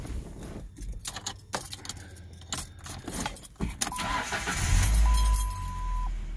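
A 1999 Ford Ranger pickup truck starting: keys jangle and clatter close by, then the engine cranks and catches into a steady low running rumble toward the end.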